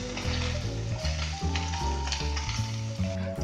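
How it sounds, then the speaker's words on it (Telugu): Paneer cubes frying in oil in a kadai until browned on both sides, a loud continuous sizzle close up with faint stirring, no talk. "రెండు వైపులా ఇలా బ్రౌన్ అయ్యేంతకు వేపుకుందాం."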